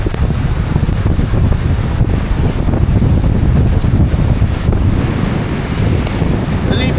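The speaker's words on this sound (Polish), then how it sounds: "Ale jestem nad morzem." Strong wind and crashing surf on the Albanian seashore in poor weather. Heavy, constant wind buffets the microphone over a steady roar of waves, loud and continuous throughout.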